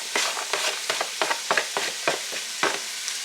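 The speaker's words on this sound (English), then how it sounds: "I'm just going to put those in the pot and get them to sauteing" Onions, celery and carrots sauté in butter in a Dutch oven, stirred in a quick rhythm of repeated scraping strokes over a light sizzle.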